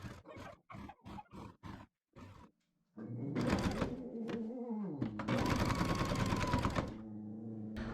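Baby Lock Jazz II sewing machine stitching binding onto a quilt corner: several short separate bursts of rapid needle chatter, a pause, then a long continuous run of loud, close whirring stitching.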